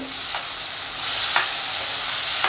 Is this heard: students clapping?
no